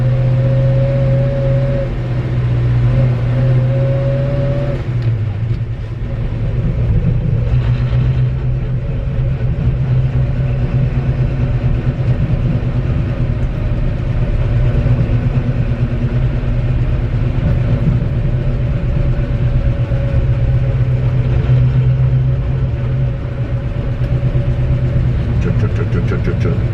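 A 1963 Chevy C30 truck with a swapped-in engine rumbles steadily while driving, a loud, continuous low drone with slight rises in revs, close and running throughout under occasional speech.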